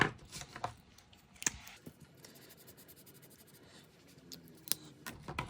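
Markers coloring a paper ornament, quiet scratchy strokes in short bursts with a few sharper taps of pen on paper, faint and close, with no talk.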